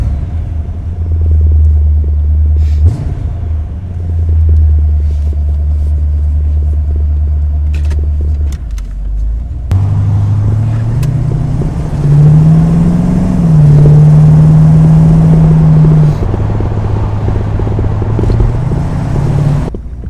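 The V8 of a lowered 1978 Corvette rumbles at a deep idle, then pulls away with revving and shifting as the car drives off, loud and close throughout.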